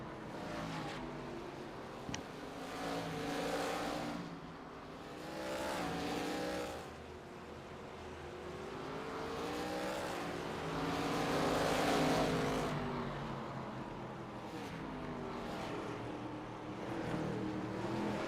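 D class ARCA race cars roar around the Langley oval, engines rising and falling in pitch as they pass and circle, a continuous loud racing drone with no talking.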